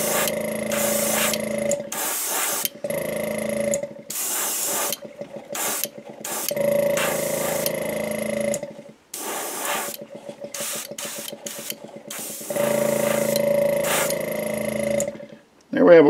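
Pearlized white paint hisses from a sprayer onto a jerkbait lure with no undercoat, in about six close, loud bursts separated by short pauses.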